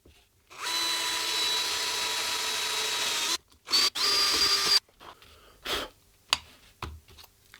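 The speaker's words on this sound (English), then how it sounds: "So I'm just going to drill it out" A power drill with a 2mm bit bores into a metal pedal enclosure, a sustained whining buzz lasting about three seconds, then two short bursts, followed by scattered clicks and handling knocks.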